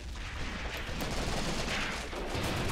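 Rifle fire in a WWII video game battle on the Mius Front, with Russian soldiers advancing on a German defense; dense, continuous crackling volleys of gunfire mixed with distant artillery rumble, loud throughout with no speech.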